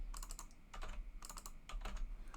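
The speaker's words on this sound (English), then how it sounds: "So as I type it in" Rapid bursts of keystrokes on a computer keyboard while entering text into AutoCAD, clicking out in short irregular clusters with brief pauses between them, close and fairly quiet.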